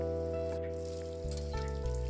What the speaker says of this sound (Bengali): এটাও ওই একইভাবে ভেজে নেব।